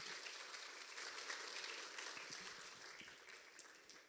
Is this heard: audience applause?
yes